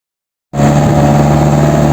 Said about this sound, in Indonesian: Perjalanan pondok motor pakai truk ini, nyarter truk itu, menghemat waktu ini.